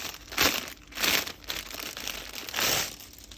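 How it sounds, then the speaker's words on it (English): Plastic bag being opened during an unboxing of vintage designer handbags, giving close, loud crinkling and rustling in several uneven bursts with brief pauses between them, with no talking. "open this plastic bag"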